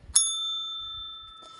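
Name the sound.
hand bell rung to start a session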